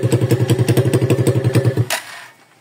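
Starter on a Rusi TC125 motorcycle under test cranks in a loud, fast, even chugging rhythm for about two seconds, then cuts off abruptly into quiet.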